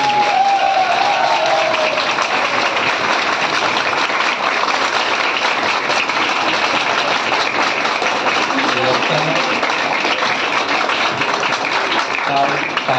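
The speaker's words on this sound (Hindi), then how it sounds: "तो हम लोग खूब ढेर सारी क्लैपिंग कर ले उनके लिए।" Sustained applause from an audience clapping for teachers at a Teacher's Day celebration at a career institute, a dense, steady wash of many hands throughout with a faint voice briefly audible near the start.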